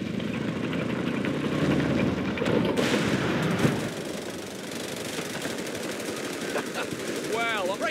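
Sustained automatic machine-gun fire in the Company of Heroes 3 Italy campaign, dense rapid bursts with heavy battlefield rumble and engine drone, and a shouted voice briefly over the din.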